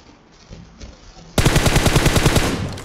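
Gunfire erupts in Battlegrounds Mobile India as a loud, rapid automatic burst of about a dozen shots after a quieter lead-in with a few faint distant pops.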